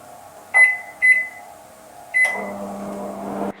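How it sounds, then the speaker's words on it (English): A microwave oven softening butter: three short beeps as it is set, then the steady low hum of the oven running alone. "I just need to pop that into the microwave and just melt that down a little bit."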